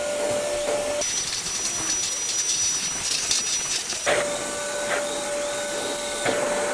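A cordless vacuum cleaner runs steadily with a smooth, fairly quiet motor hum and a thin high whine, its pitch shifting slightly a couple of times as it works, with no talking.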